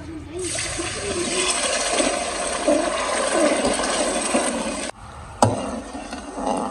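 Water pours into ghee and sugar syrup in a pan for a mutanjan sweet rice dessert, giving a loud, continuous rushing sizzle for several seconds that breaks off abruptly near the end, with a brief clack after.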